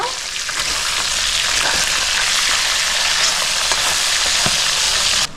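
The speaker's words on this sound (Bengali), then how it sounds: "মাছের মাথাগুলো লাল লাল করে ভেজে নেব।" Katla fish heads frying in oil over a high gas flame, a loud, continuous close-up sizzle and crackle with occasional spatters throughout.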